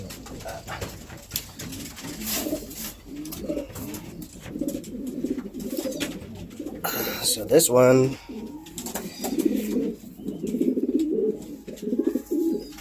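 Pigeons coo repeatedly around the loft, among them older youngsters well into their molt, with a person talking over the birds throughout.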